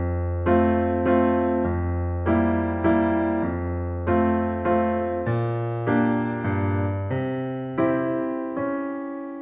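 A reharmonized Handel chord progression is played on piano with the left hand alone, as a steady series of sustained, rich low chords struck one after another and left to ring, close and solo.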